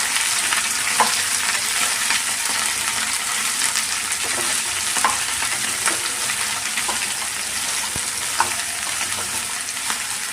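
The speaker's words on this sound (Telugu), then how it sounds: "ఇప్పుడు బెండకాయ ముక్కలు వేసేసుకున్నాము. వేసుకున్నాక ఒకసారి కలుపుకున్నామండి మొత్తం." Okra pieces frying in a pan while being stirred: a steady, close hissing sizzle runs throughout, with occasional light scraping clicks from the stirring.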